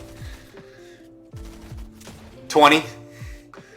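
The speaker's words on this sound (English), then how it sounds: "you're going to see him hit 4 shots here" Heavy shotgun blasts in a video game, a Fortnite-style solo cash cup match, come as a few sharp reports, the loudest burst near the end. The game's music and other effects carry on underneath.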